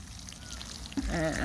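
Water is poured sparingly onto the soil of a potted Thai eggplant, a brief close trickle and splash that starts partway through after quiet background noise.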